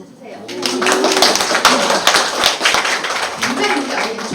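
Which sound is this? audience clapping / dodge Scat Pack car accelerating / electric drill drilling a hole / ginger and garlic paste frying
audience clapping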